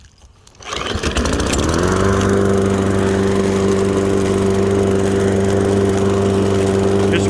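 A PowerSmart push lawn mower with a Briggs engine starts and settles into a loud, steady close-up drone that runs unbroken to the end.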